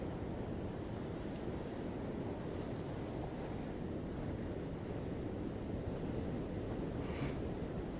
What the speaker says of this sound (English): the sound of the water, the gentle push-pull of it, rising up to fill a space it just as quickly leaves